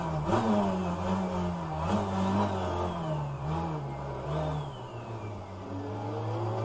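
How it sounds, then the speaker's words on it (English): A race car engine in rFactor 2 fires up and revs, rising and falling through several throttle blips over a steady idle, moderately loud and close with no talking. "So let's fire up the engine"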